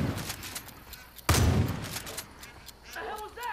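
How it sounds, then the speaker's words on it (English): Gunfire in the video game Far Cry 5: a burst of shots in the distance, then one loud, close blast, with faint scattered shots after it and a voice talking in the background. "Who's shooting?"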